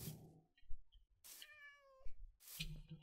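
A cat in the video game Minecraft meows once clearly, a short rising-and-falling mew set between brief bursts of soft in-game noise, fairly quiet overall.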